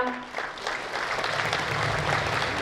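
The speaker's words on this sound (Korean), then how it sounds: "여러분 환영의 큰 박수 부탁드리겠습니다" An audience at a county governor's inauguration ceremony gives welcoming applause, a dense, sustained burst of clapping that swells and holds strongly to the end.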